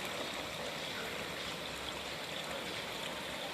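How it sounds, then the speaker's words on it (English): Water runs steadily through a small babbling brook in a serene town setting, a continuous close trickling and gurgling rush with no voices over it. "I'll show you a little bit more of the water running through this babbling brook."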